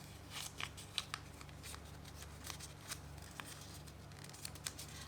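Paper cash bills being folded up smaller by hand, giving soft, close crinkling and creasing with small scattered rustles over a low, steady background hum.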